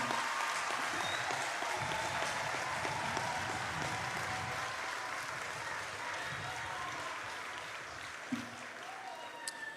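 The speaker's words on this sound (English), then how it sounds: "invite our audience to give you a rousing round of applause on this your graduation day." At a community college graduation ceremony, the audience gives standing graduates a long, rousing round of applause, a continuous dense roar of clapping that stays strong and eases only slightly near the end.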